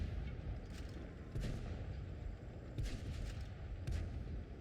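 A tank cannon in World of Tanks Blitz fires high-explosive shells, heavy booming shots landing at irregular intervals over a constant low rumble of battle, fairly quiet overall.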